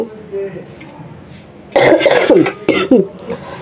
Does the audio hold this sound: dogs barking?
no